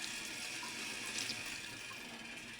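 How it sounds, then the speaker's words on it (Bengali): Water is poured into a pan of curry with eggplant and potato, a steady close splashing and trickling stream that runs without a break and with no talk over it. "এখন আমি অল্প পরিমাণ জল ঢেলে দিয়েছি।"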